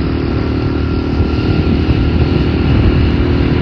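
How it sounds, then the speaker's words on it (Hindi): A motorcycle rides along with a steady, loud engine drone and rumble close to the microphone, no voices over it. "तो देखिए अभी ये बाइक चला रहा है"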